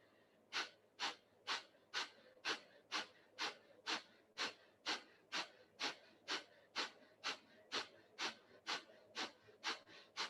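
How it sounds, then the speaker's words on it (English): Breath of fire yoga breathing: a steady train of about twenty forceful nasal exhales, sharp and evenly spaced roughly twice per second, close and fairly quiet, with no speech. "start your breath of fire here"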